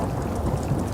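A steady thunderstorm rumbles through a swampy ruin in Fallout 4, a low continuous roll of thunder blended with rain, filling the whole second without any voices.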